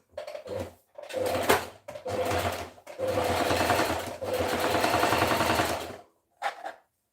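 A sewing machine restitches a poorly sewn dress seam in several loud, close bursts of rapid mechanical whirring, separated by short pauses and ending with one brief final run.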